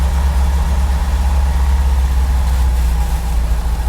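A 1958 Volkswagen Transporter T2 split-windscreen van engine idles steadily with a deep, even low rumble, loud and continuous throughout with no voices.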